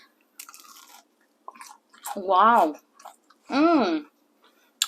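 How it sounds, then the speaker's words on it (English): Close, crisp crunching bites into fried mango saheena with cumin seed, several short crunchy bursts between brief pauses. A person speaks and exclaims between the bites. "I'm getting that nice cumin crunch in there"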